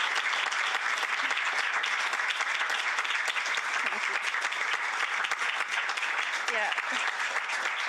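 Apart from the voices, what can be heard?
conference audience applause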